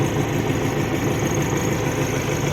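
A tractor engine runs steadily close by, a dense, even mechanical drone like idling, with no voices over it.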